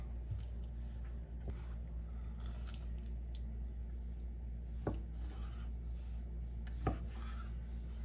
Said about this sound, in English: So you wanna try and cut your catfish evenly.